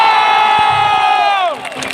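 A concert crowd at the Madhyamgram Poribesh Mela cheers and shouts, loud and close, with a long sustained whooping tone that slides downward near the end.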